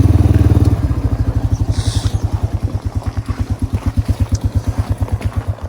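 A 1987 Yamaha Moto 4 200 ATV idles up close just after a carburetor fix, its single-cylinder engine pulsing in a steady, slightly uneven putter with a louder burst at the start, with no voices present.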